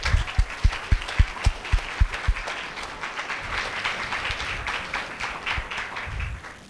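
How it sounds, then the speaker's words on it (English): A school audience gives a round of applause for two presenters at an event: sharp, distinct claps open the clip, then dense, steady clapping from the crowd carries through to the end. "please give them a round of applause"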